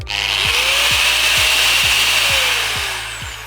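A Procraft angle grinder whirs loudly and steadily with a high-pitched grinding whine, joined by a regular low thumping pulse that repeats about twice a second.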